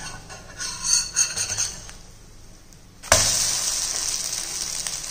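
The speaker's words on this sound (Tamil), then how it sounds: "பிரட்டி போட்ட பக்கமும் ஒரு 2 நிமிஷம் வேகட்டும்" Oats omelette cooking in a pan after being flipped, with a soft sizzle and a few light clinks at first, then a sudden louder, steady frying hiss that carries on to the end.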